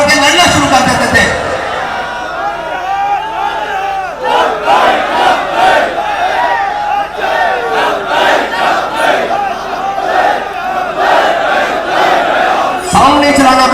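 A large crowd at a TLP political conference chanting the Labbaik slogan in loud, rhythmic, repeated shouts, with a voice leading at the start and end.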